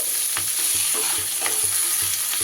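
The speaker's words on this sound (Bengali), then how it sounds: "ঢাকাটা খুলে আবারও একটু নাড়িয়ে চাড়িয়ে দেব" Vegetables with small diced potatoes and drumstick flowers simmer in an uncovered pan over a low gas flame, a steady soft sizzle with rhythmic scraping strokes of a spatula stirring them, close and without talk.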